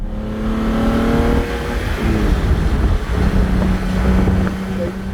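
Ferrari Daytona Spider with its V12 engine driving, a loud close engine drone with shifting pitch, heavy wind buffeting over the microphone.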